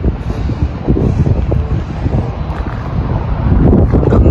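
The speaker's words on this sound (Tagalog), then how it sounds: "Tapos lumalakas yung hangin." Strong wind rises ahead of a possible tornado in Canada. It roars continuously and loudly, buffeting the microphone in heavy gusts that swell toward the end, with no voices.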